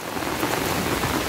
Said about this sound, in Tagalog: Ang ulan na dala ng habagat kasi mas marami yung ulan niya